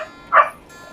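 A single short, sharp yip from a dog, a father's dog that has a puppy, rings out once over quiet background noise.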